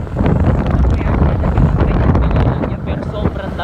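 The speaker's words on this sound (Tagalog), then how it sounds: "Kaso sobrang lakas ng hangin." Strong wind buffets the microphone continuously on a cold evening in Calatagan, a loud, steady broadband roar with gusty surges from start to finish.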